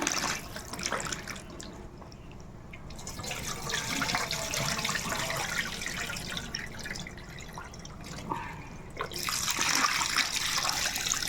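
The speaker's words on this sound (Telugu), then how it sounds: "అయితే కూర ఫ్రెష్గా మనం కడిగేసుకుందామండి నీట్గా." Meat is rinsed under a running kitchen tap, with continuous splashing water, drips and handling noises, the flow briefly easing and surging again near the end.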